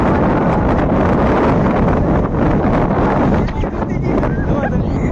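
Strong wind buffets the microphone in a continuous loud roar with rumbling gusts, no other clear sounds standing out.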